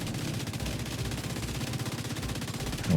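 Rapid automatic gunfire from the video game The Division 2 rattles in a fast, even stream of loud, close shots that runs without a break.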